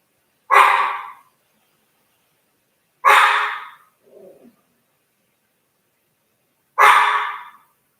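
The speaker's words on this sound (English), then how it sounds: "I'll just try to wrap it up with him barking in the background" A dog barks three separate times, each a loud, full bark spaced a few seconds apart, with a short, quieter whine or huff between the second and third, and no talking over it.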